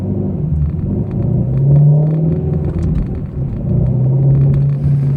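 Ford Mustang GT350 V8 accelerating from inside the car, a loud, deep engine rumble rising and falling through the gears without any talking.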